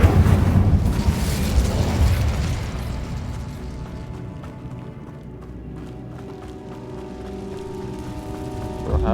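An Incendio fire spell erupts in Hogwarts Legacy, opening with a loud roaring burst that slowly fades into a quieter rumbling tail with faint ringing tones, then swells again at the very end.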